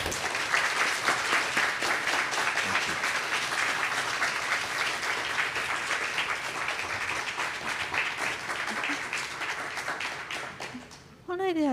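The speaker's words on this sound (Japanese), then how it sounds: "皆様、もう一度大きな拍手をお願いいたします。" An audience at a glass museum's special commemorative lecture gives sustained, dense applause that slowly fades, ending abruptly as a voice begins.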